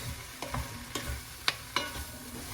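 Two medium zucchinis are stirred into a pot of Thai red coconut curry soup, giving a quiet background hiss and four or five distinct scraping knocks of a spoon against the pot, spaced about half a second apart.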